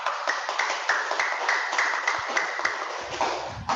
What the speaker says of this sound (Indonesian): Tepuk tangan buat Pak Ali.